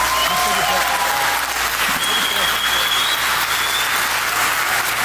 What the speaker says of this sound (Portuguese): que merece ser aplaudida.